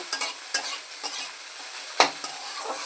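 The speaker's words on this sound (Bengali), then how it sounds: "আমি একটু ঘি দিয়ে দেব নামানোর আগে একটু ঘিটা দিয়ে একটু নাড়াচাড়া করব" Chire pulao of flattened rice is stirred with ghee in a pan, giving several sharp scraping strokes of a spoon against the pan over a soft background sizzle, with no talking.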